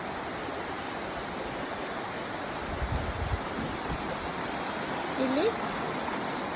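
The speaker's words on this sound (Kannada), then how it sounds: "ಇದು ಸಣ್ಣ ಜಲಪಾತ" A small waterfall at Buley Rock Hole in Litchfield, Australia, gives a steady, soft broadband rush of falling water throughout, with a brief spoken word near the end.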